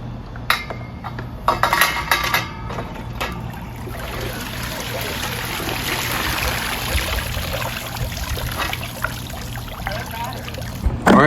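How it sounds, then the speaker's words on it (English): A pool vacuum head lifted out of a swimming pool on a pole, water dripping and splashing off it with light clinks of plastic, a steady trickle carrying on close by for several seconds. "that's how you fish it out of the water"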